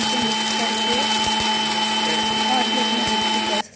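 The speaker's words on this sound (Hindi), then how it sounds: "मैं इसे ग्राइंडर में मिक्सी में पीस रही हूँ ताकि ये पाउडरी फॉर्म में बन जाए" A mixer grinder whirs steadily while grinding flaxseed into powder, a loud continuous motor drone with a steady hum that cuts off abruptly at the end.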